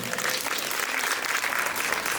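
An audience applauds a singer at a music club tribute evening, a dense, steady wash of many hands clapping close and loud, with no voices over it.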